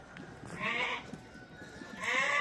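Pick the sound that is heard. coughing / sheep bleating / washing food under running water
sheep bleating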